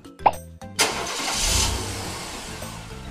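A toy car's electronic engine-start sound after a button press, with a short click, a brief pause, then a loud revving start settling into a steady running hum.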